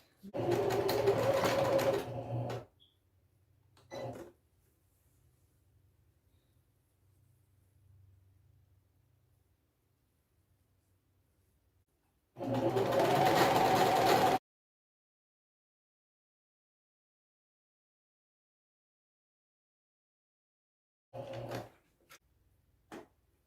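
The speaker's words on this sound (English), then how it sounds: "And then I'll go ahead and fold again and start stitching." A sewing machine stitches a fabric basket liner in two loud bursts of rapid motor whir, each about two seconds long, separated by quiet pauses, with a brief clunk between and short mechanical clicks near the end.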